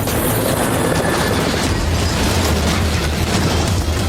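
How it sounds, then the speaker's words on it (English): A Black Hawk military helicopter strikes a compound wall in Abbottabad, Pakistan and crash-lands, a sustained, loud crashing roar of rotor noise and rumbling impact debris lasting several seconds. "One of the helicopters hits a sudden draft, causing it to hit the compound wall and crash land."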